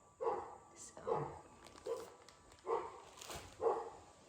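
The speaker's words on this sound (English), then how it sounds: "he's gonna keep barking." A dog barks repeatedly in separate, evenly spaced woofs, moderately loud against a quiet background.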